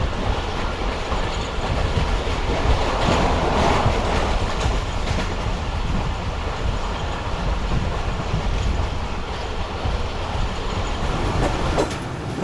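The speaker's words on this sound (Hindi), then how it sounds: "11:25 पर ट्रेन हमारी अप्रोच बना रही है पन्नागल ट्रेन रेलवे स्टेशन पर" The Khyber Mail passenger train rolls steadily along the rails, a continuous loud rumble with rhythmic clickety-clack from the wheels and faint squeals, heard from inside a coach.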